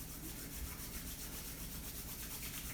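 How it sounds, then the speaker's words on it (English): Two hands rubbing briskly together, a steady, continuous dry friction hiss that holds at an even level from start to end, close and fairly quiet with no talking. "take your 2 hands together and rub them."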